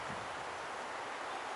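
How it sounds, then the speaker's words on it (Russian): Wind sweeps through forest trees with twisted trunks, a steady, full rustling hiss of moving leaves and branches, close and unbroken, with no voices. "Ух ты, ветер подул."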